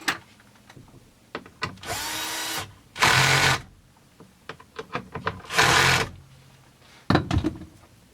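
A power tool whirs in three sustained bursts of about a second each while removing the last bolt during a Husqvarna 262xp chainsaw rebuild, with scattered metallic clicks and handling knocks between the runs.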